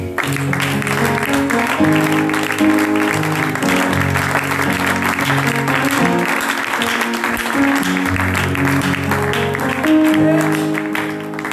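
A church congregation keeps up loud, continuous clapping and cheering for Jesus throughout, mixed with sustained music and voices.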